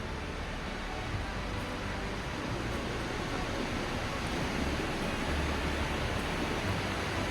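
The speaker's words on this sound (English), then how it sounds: "When I get a look at this waterfall up here" A waterfall on Wolf Creek in Letchworth State Park roars as a constant broadband rush of falling water, loud and unbroken for several seconds with no voices.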